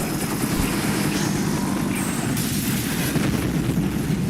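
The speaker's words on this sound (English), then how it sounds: "That would have blown that helicopter away." Helicopter in the video game Parasite Eve being blown up: a dense, rumbling roar of rotor and blast noise, steady and loud throughout with no speech.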